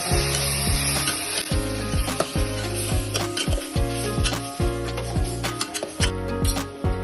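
Mushrooms fry in a pan, a loud, close sizzle broken by rhythmic scraping and knocking strokes of a utensil against the pan.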